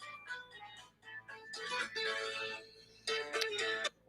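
A mobile phone ringtone plays a melodic tune in repeated bursts with short gaps, fairly loud and close, going off in the middle of a rant-style talk show.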